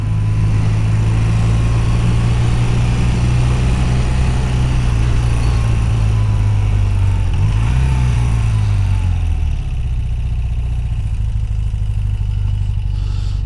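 A 41-year-old BMW R100CS Airhead motorcycle idles steadily with a loud, continuous low rumble and a faint mechanical clatter, its pitch dipping slightly partway through before settling again.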